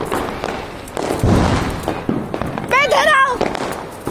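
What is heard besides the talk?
sky shot fireworks exploding during Diwali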